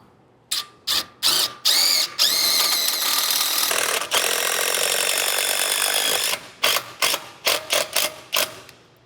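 An impact driver hammers a screw into a plastic bracket during an RV sway control install, first in short bursts, then one long continuous run, then several more short pulses, loud and close with no talking.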